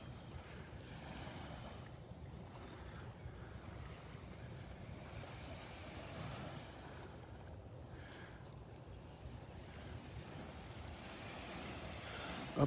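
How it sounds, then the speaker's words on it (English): Surf washing steadily onto a beach in North Naples, Florida, with continuous wind rumbling across the microphone; the waves roll in as a constant wash with no talking. "This is the north end of Area 1 Beach."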